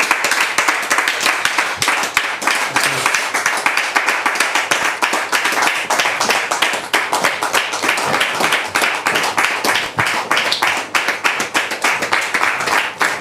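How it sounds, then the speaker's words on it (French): An audience applauds a couple at a church gathering, with dense, continuous clapping from many hands that stays loud and fairly even for over thirteen seconds. "Merci de les recevoir sous vos applaudissements"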